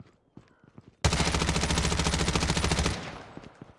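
MP5 submachine gun in Call of Duty Mobile firing a loud, rapid full-auto burst lasting about two seconds, each shot evenly spaced, preceded by quiet footsteps and clicks and trailing off into a short echo.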